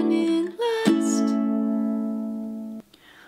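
A tenor ukulele tuned with a low G sounds a couple of down strums at chord changes, each chord ringing out and sustaining before fading, with a soft tap at the end and no voice.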